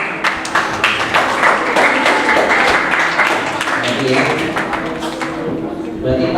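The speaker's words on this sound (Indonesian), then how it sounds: "Tepuk tangan dong." An audience of students at a school Christmas event in Jakarta claps loudly and steadily for several seconds, with dense overlapping hand claps filling the room and some voices underneath.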